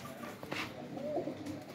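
Pigeon cooing at a pigeon club, a few soft low coos rising briefly over steady background noise, fairly quiet and close.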